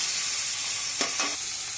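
Onion, tomato and green chili fry in hot oil with a constant close sizzle, broken by a couple of quick stirring scrapes near the middle.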